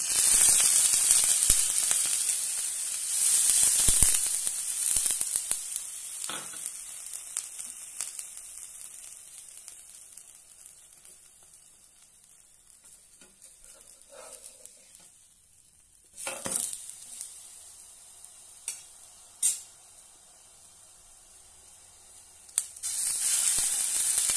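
Milk poured onto bread toasting in a pan for milk bread toast, sizzling and hissing loudly at first, settling to a quiet simmer, then flaring up again in short bursts of sizzle near the end.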